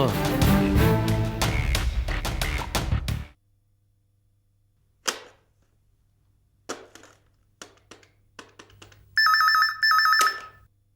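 In a scene from the Tamil TV serial Roja, music plays at first, then stops for near silence with scattered clicks. A short, bright, warbling telephone ring sounds twice near the end, before the call is answered.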